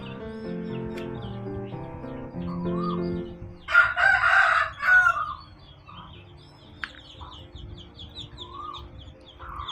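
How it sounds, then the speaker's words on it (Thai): A fighting rooster at a chicken coop on a farm crows once, loud and close, its call rising out of background clucking and bird chirps before the yard settles. "นี่เป็น เล้าไก่ ไก่ชนค่ะ"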